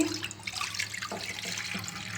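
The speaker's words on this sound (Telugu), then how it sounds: "వాటర్ పోస్తున్నానండి" Water splashes and gurgles as it is poured into a pot for cooking vermicelli, a short, fairly quiet stream lasting a couple of seconds.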